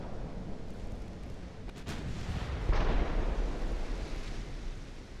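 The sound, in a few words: Mark 5 13-inch naval guns firing in video game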